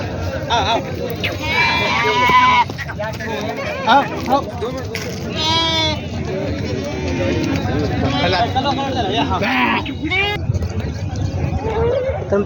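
Kathewadi goats bleat repeatedly over a busy market crowd at the Vasmat goat market, India, their cries rising above constant chatter and background bustle.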